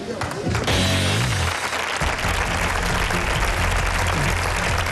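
An audience applauds at a televised interview show, steady clapping filling the room from start to finish, while someone speaks loudly over the first moments.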